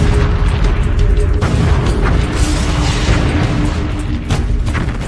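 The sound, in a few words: explosions and artillery fire in a documentary tank battle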